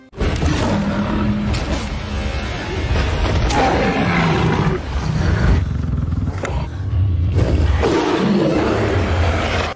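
A bear roars in a scene from the La Brea season 2 series: a loud, sustained roaring that runs through the whole stretch, layered with deep rumbling booms and whooshing movement.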